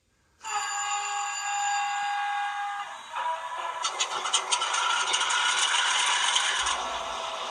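An HO scale ScaleTrains AC4400CW model locomotive's sound unit starts up with a steady electronic horn-like tone, then shifts into a busy chugging, clattering diesel engine rumble with rhythmic pulses.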